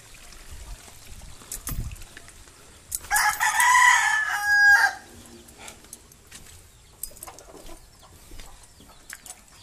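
A rooster crows once, fairly close and loud, its call rising and holding for a couple of seconds over a quiet outdoor background.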